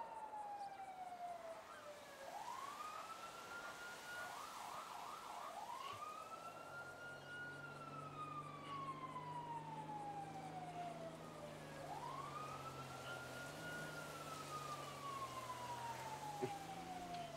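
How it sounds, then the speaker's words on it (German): A siren wails in long rising and falling sweeps, with a brief fast yelp, fairly faint and distant, as a low engine rumble joins partway through. "Ich habe auf jeden Fall eine Sirene gehört."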